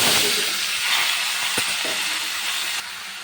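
Vegetables for shukto frying in a kadai with spices, producing a continuous steamy sizzle and hiss at moderate loudness with a short clatter midway and no voices.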